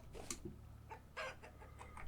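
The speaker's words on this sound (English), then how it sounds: "there you go, chook." Chickens in the video game Vintage Story, a few short clucks and squawks scattered over a couple of seconds, quiet and close over a low background hum.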